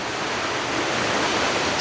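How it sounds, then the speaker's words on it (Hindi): Small waterfall on a mountain trek in Uttarakhand, a steady, loud rushing of falling water that continues without a break, up close. "ये है वाटरफॉल छोटा सा हमारा"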